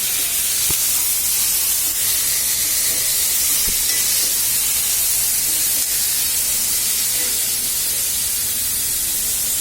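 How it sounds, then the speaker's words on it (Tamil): Green chillies and grated onion sauté in a hot pan for channa masala, giving a steady, loud broadband sizzle and hiss that runs unbroken throughout, with a few faint clicks from the pan. "இப்போ இதில் 2 பச்சை மிளகா, துருவி வச்ச வெங்காயம் போட்டு நல்லா வதக்குங்க."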